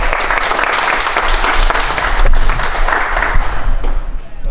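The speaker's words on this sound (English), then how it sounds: "Let's give them a round of applause" A crowd at a bowling clinic at Tigard Bowl gives sustained applause, broad steady clapping that continues throughout with no break.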